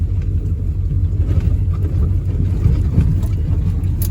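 A farm truck's engine droning steadily as it drives around a field, a loud, close, low rumble with constant road and cab noise throughout.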